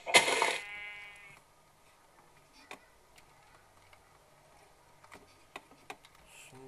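A sheep bleats once in the Minecraft video game, a short loud bleat at the start, followed by faint ticks and clicks of gameplay.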